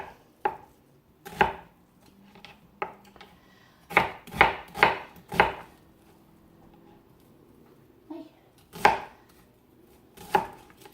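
A knife chops onions into small pieces on a board, with sharp, close strikes that come singly and in quick clusters, separated by short quiet gaps.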